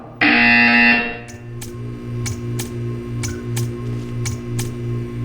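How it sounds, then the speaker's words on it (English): A loud, harsh electronic buzzer blares for about a second in the video game Portal 2, then a quieter ticking continues over a low hum. "You will hear a buzzer. When you hear the buzzer, stare at the art."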